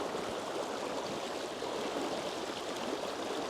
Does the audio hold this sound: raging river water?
yes